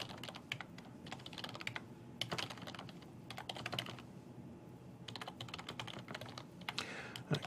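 Someone enters sample data on a computer keyboard in quick bursts of close, crisp keystrokes, pausing briefly between runs of typing.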